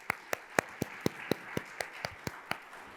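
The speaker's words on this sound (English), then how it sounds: "let's give all of those individuals and organizations a round of applause" At a community forum on Ohio's data center debate, someone claps about a dozen times, each clap sharp and evenly spaced, faint against a quiet room.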